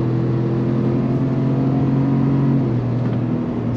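A 2023 Chevrolet Tahoe RST Performance Edition with a 6.2-liter V8 pulls hard under throttle, a loud, steady engine drone heard from inside the cabin that shifts pitch briefly near the end.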